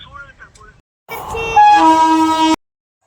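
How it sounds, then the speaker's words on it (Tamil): A large train rolls past a railway crossing with its horn sounding in long sustained tones, loud and near, preceded by brief speech and continuing for about a second and a half. "ஆனால் படா ட்ரெயின் வந்துச்சுப்பா"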